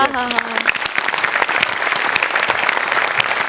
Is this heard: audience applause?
yes